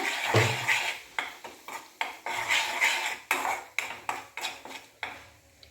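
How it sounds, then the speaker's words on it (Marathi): A utensil stirs egg curry with turmeric and mutton masala in a metal pan, with repeated clanking and scraping strokes at an irregular rhythm, close and fairly loud, with no talking. "हे जरा थोडंसं आपण हलवून घेऊया."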